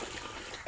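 Water splashes faintly as hands are washed, in a short soft burst of trickling and sloshing with no voices.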